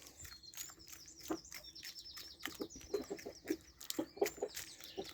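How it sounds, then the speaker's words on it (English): Backyard chickens cluck in the morning, a scattering of short, soft clucks and chirpy calls at close range, with irregular bursts against a quiet background. "I can see the chickens are out."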